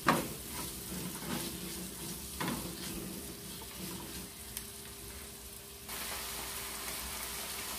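Chicken legs sizzling steadily in a pan as tomato goes in, with a sharp clatter at the start and occasional stirring knocks over a continuous frying hiss, near and moderate in level.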